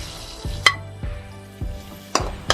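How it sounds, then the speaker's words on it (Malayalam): Paneer butter masala mix frying in butter in a pan, with a spoon scraping and stirring about every half second over a soft, steady sizzle, close by and with no voices. "അതൊന്ന് ബട്ടറിൽ ഫ്രൈ ചെയ്തെടുക്കാം."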